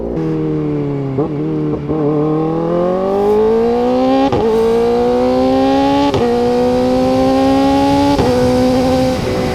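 A Kawasaki ZX-4RR motorcycle with its stock exhaust drones loudly and steadily while riding, the engine pitch slowly climbing. Sharp exhaust pops crack out at scattered moments over the running engine.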